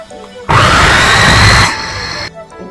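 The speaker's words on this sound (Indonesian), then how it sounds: "Ini masih yang kedua saya blender ya." A kitchen blender whirs loudly as it purées mulukhiya leaves for soup, starting abruptly, running hard for about a second, then easing to a lower hum before cutting off.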